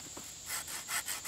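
Stick ends trimmed off a primitive basket fish trap lashed with paracord, giving a close series of rough, rhythmic sawing strokes that grow louder in the second half, with no talking.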